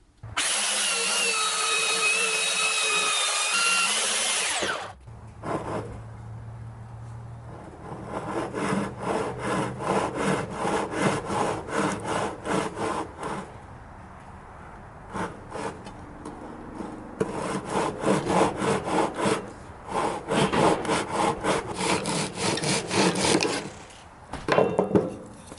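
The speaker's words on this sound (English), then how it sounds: "These are all going to be shaped with the Dremel." A Dremel rotary tool shapes curves on wooden grips, giving a high, close grinding whine at first, then many rapid scratchy bursts of sanding against the wood in uneven runs with short pauses.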